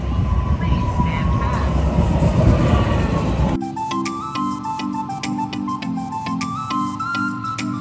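A DART local train pulls into a station in Dallas: loud broadband rumble and rush for the first few seconds, then a steady repeating tonal chime or bell pattern at the platform as it settles.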